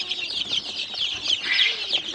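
A flock of farm chickens clucks continuously nearby in a busy, overlapping chorus, and a few louder calls stand out toward the end. No one talks.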